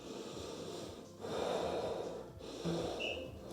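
A person takes two deep, audible breaths close by during an ab workout, each a drawn-out airy inhale or exhale with a slight nasal edge and no talk.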